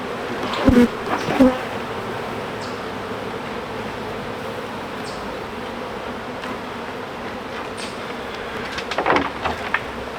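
Honeybees from an aggressive hive buzz close and continuously in a dense droning swarm, with a few sharp knocks near the start and again near the end.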